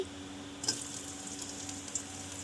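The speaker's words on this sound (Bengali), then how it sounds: "এখন তেলটা গরম হয়ে গিয়েছে এর ভিতরে আমরা পেঁয়াজ কুচি" Chopped onion is added to hot oil and sizzles quietly and steadily, with a small splash or clink as it goes into the pan.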